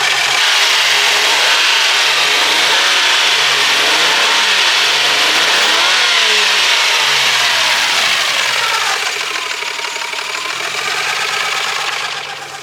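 A loud six-cylinder Lexus IS200 engine revs up and down in long swells close by, then settles toward a rougher idle near the end.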